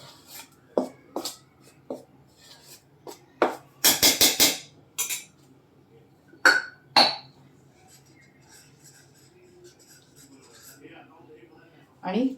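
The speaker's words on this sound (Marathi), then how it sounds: "हे छान असं मिक्स करायचं." A ground fenugreek paratha mixture is mixed in a bowl, giving irregular close clinks, taps and scrapes, with one quick burst of rapid knocking. A voice speaks between the sounds.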